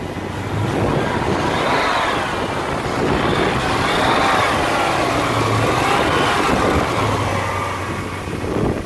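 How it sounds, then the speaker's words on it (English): A 2012 Dodge Challenger SRT8 with a 6.4-liter V8 Hemi and a six-speed manual runs loudly nearby, a steady deep rumble with rising and falling revs. No one speaks over it. "I'm going to start it off for you so you can hear this engine."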